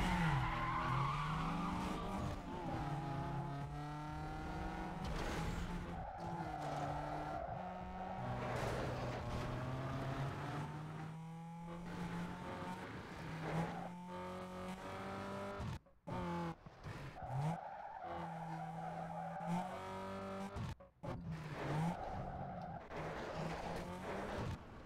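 Long tire squeals and screeching skids from a drifting car in Need for Speed Underground 2, with engine revving rising and falling under continuous, loud, sliding rubber and brief pauses.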